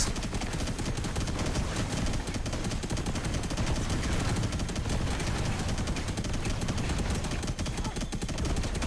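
Rapid continuous gunfire from the Robocraft vehicle combat game, a dense crackling burst of shots running loud and unbroken throughout, up close.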